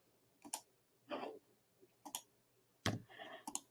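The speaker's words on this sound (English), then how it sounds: "There's a lot of clicking involved the way I'm doing it." Computer mouse clicking while formatting PDFs for Google Classroom, a few separate bursts of crisp clicks spaced irregularly, close and fairly quiet, with no talking.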